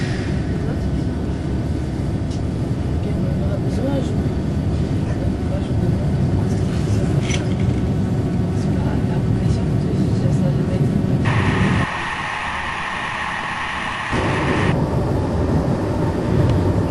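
Riding a French passenger train bound for Arles via Tarascon, a continuous loud rumble of the moving carriage fills the cabin, with a brief shift in tone partway through.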